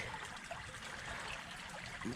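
Cold city creek water trickling and swishing over stones, a faint, continuous gurgle with small splashes, close by and alone.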